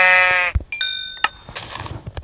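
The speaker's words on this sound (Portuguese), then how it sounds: "Olha, galera, é uma ovelha ali, ó. É uma ovelha." A video game sheep bleats loudly with a long wavering call, followed by a couple of short sharp clicks and quieter game sounds.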